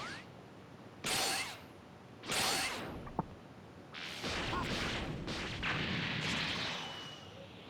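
Broly's Gigantic Meteor ultimate attack in Dragon Ball Xenoverse 2: two loud whooshing blasts about a second apart, a sharp crack, then a sustained roaring explosion rumbling for several seconds.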